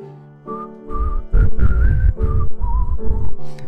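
A person whistles a wavering melody in a series of short phrases, loud and close, with breathy bursts of air between notes and no talking.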